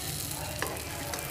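Vegetable rava appam fries in a pan with a steady, dense sizzle that sounds close and continuous throughout.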